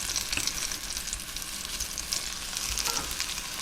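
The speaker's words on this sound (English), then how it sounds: "give them a nice sear on the other side" Food sears in a hot pan with a steady, bright sizzle and crackle, close and continuous, with faint low clunks of the pan and no talking.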